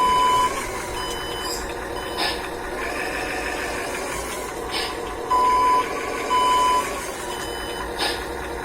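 Backup beeps from a Hino RC toy dump truck sound in three short, evenly spaced pulses over a steady electronic whine and mechanical hum, close and moderately loud.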